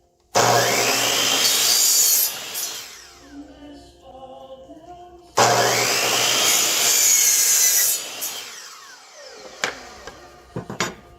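A hand saw cuts through wooden interior window trim for a tiny house in two long, loud back-and-forth stretches. Between and after the stretches come quieter knocks and handling clatter.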